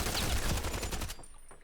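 Rapid automatic gunfire in the video game Hired Ops rattles out in a fast, tinny, steady burst, loud and close, then cuts off into a faint tail.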